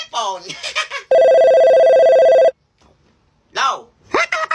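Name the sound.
new cellphone ringing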